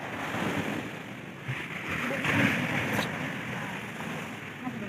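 Large ocean waves surge and wash in a broad, rumbling roar with some wind buffeting, heard from a nearby shore and swelling slightly midway through.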